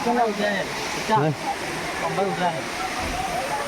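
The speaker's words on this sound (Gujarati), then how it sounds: "જ્યાં વોટરફોલ ધોધ પડી રહ્યો છે અને જે પાણી પડી રહ્યું છે તમે જોઈ શકો છો" A hidden waterfall at Pavagadh rushes in a steady, close roar of falling water beneath someone speaking almost throughout.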